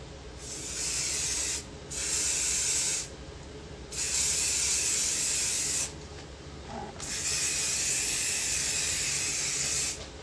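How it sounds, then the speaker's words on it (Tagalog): Aerosol hair spray net hissing out in several long, steady bursts with short pauses between them, close and loud, with no talking. "Baho naman ng spray net mo"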